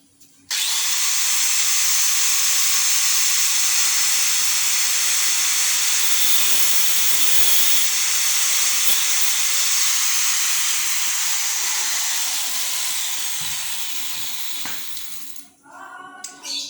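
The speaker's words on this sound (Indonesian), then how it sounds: "ini gerinda potong." A cutting grinder is grinding metal up close, a loud steady high whine with hissing grit that holds for about fifteen seconds before winding down at the end.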